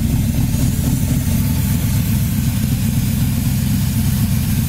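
A 1970 Camaro's engine runs steadily nearby, a deep, even idle rumble with a slight lope that holds unchanged throughout.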